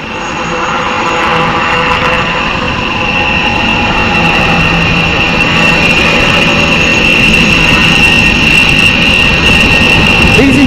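An LUH helicopter flying low-speed manoeuvres at an air show, its steady, loud, close turbine whine and rotor roar continuing without a break and growing a little louder over time.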